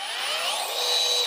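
A cordless drill whirs steadily as its trigger is squeezed, a close, continuous high-pitched motor whine that rises slightly in pitch and intensity toward the end, with no talking.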